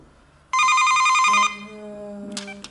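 A newly installed intercom doorbell in a home heating-system handover sounds a loud electronic ring for about a second, followed by a lower steady tone, with brief noises near the end.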